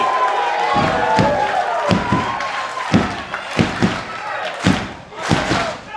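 Crowd at a live professional wrestling match cheering a wrestler, loud sustained roar punctuated by rhythmic thumps and claps close by, with commentators talking over it.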